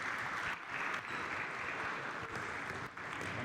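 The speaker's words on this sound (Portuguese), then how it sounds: "Uma salva de palmas para eles, pessoal" Steady applause from a group at a handball goalkeeper training workshop, a continuous patter of clapping for several seconds with slight dips, heard alone without voices.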